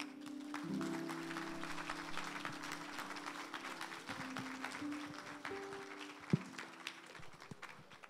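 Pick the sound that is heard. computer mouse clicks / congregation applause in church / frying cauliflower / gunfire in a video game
congregation applause in church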